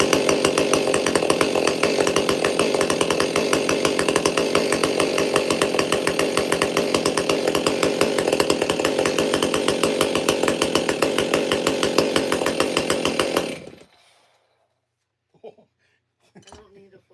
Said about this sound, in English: You can't have a saw sound like that with a half wrap handle.